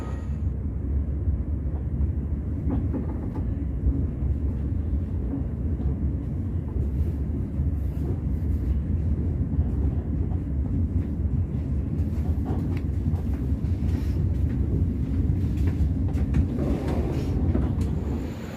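A steady low rumble of the Malabar passenger train rolling along the tracks in Indonesia, continuous and droning, with faint rattling and clicks layered over it throughout.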